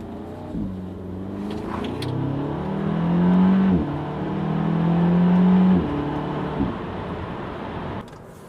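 A synthetic car engine sound from an Audi S3's sound actuator in automatic mode hums and rises in pitch through several smooth gear-like steps, steady and close, with road noise underneath.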